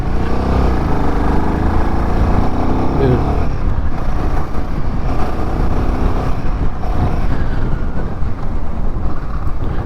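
A Royal Enfield Himalayan 450 motorcycle engine revs and pulls past 3000 RPM on a ride, giving a loud continuous drone with a rising pitch under heavy wind rush, while a rider talks over it.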